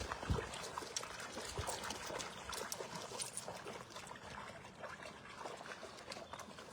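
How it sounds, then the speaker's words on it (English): Water trickles and splashes faintly as a dog's muddy paws are washed outdoors in woodland, a quiet, steady, close dribble with irregular small splashes. "Why, Harry, you've got muddy paws. Come on, wash your paws"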